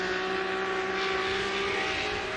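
A Toyota 86 drift car fitted with a GTR engine winds up during Formula Drift qualifying in Utah, a loud sustained high engine whine with steady harmonic tones, heard from a distance across the track.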